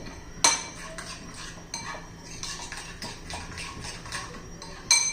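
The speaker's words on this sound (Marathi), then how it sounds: "व्यवस्थित मिक्स करून घ्यायचं हे पण स्मूद अशी पेस्ट झाली पाहिजे" A spoon stirs dhokla batter into a smooth paste in a bowl, making a run of close, gentle scraping and clinking strokes, with sharper metallic taps at the start and end.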